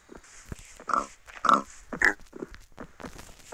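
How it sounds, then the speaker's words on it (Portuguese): Pigs in a video game grunt and squeal in several short, loud bursts nearby, separated by brief quieter gaps. "Eu achei 2 porcos."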